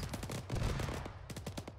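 Rapid automatic gunfire in Arma 3, a dense stream of close, loud shots with short gaps, no voices.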